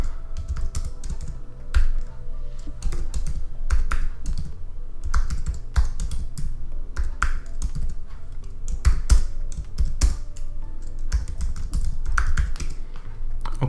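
Rapid typing on a computer keyboard in a terminal while creating a sample index.html file, dense clattering keystrokes close up in uneven bursts for over ten seconds, no speech.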